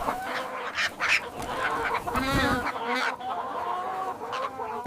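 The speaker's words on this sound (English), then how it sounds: "Chicken safe!" A cartoon chicken clucks and squawks in a busy run of bright, chattering bird calls, fairly loud and continuous over a few seconds.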